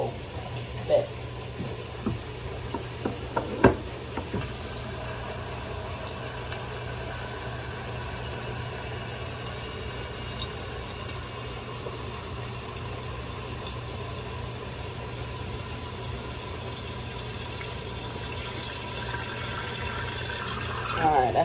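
Water runs steadily into a medium bowl in a kitchen for a noodle sauce, a continuous splashing fill with a few clinks early on.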